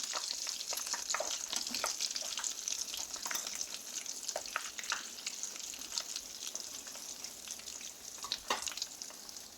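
Egg kebabs fry in hot oil with a steady, close crackling sizzle and scattered sharp pops, running without a break and with no voices.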